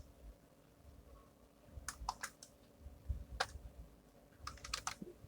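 Java code is typed on a computer keyboard in short bursts of crisp key clicks, close but fairly quiet, with a low hum of room noise between the bursts.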